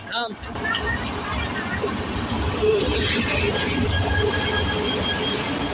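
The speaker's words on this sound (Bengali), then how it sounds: "ট্রেন আসতেছে সেটা আসলে ট্রেন নয় সেটা হচ্ছে ট্রেনের ইঞ্জিন" A train locomotive engine arriving at a station near the Brahmaputra on the Rangpur–Gaibandha line: a continuous rumbling, rolling rail noise with faint wheel squeal, with a person talking over it.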